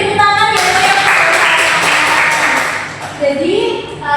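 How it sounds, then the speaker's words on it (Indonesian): A classroom of students clapping in a burst of dense, fairly close applause lasting a couple of seconds, then fading as a teacher's voice resumes. "Baik, beri tepuk tangan ya."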